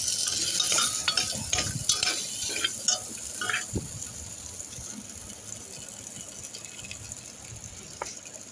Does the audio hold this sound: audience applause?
no